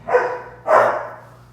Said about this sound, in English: The puppies are fighting and playing around in the background, as you can hear.